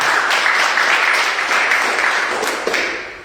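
Congregation applauding God during a church worship service at GKSI Glory to Glories Batam, a dense sustained wash of clapping that fades toward the end.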